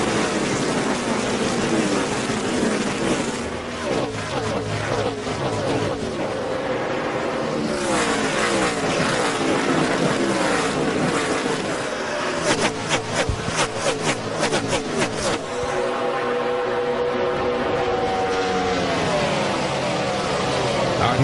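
NASCAR stock cars racing in the 2007 Brickyard 400 at a green-flag restart, engines roaring continuously with loud, dense crowd-and-track noise and a commentator talking over it throughout.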